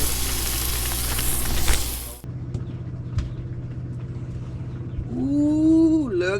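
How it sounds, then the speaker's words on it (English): Spot shrimp dumped onto a hot barbecue griddle give a loud, broadband sizzle for about two seconds, then fade to a quieter crackle with low background murmur and a brief rising whine near the end. "I'm gonna go ahead and just dump some shrimp on the Barbie"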